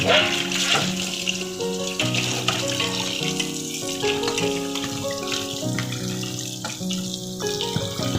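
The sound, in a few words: fish being washed under running tap water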